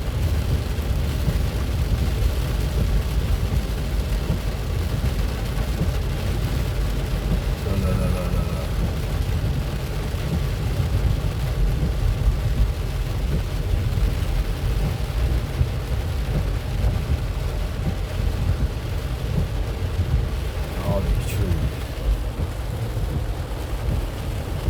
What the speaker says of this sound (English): It's hard to see because this rain drops on the window.